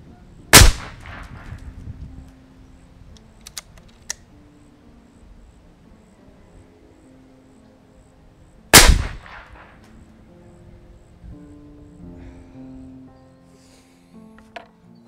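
Ataman M2R .357 PCP air rifle with no sound moderator, fired twice several seconds apart, each shot a loud, sharp crack with a short ringing tail, followed by faint mechanical clicks and handling.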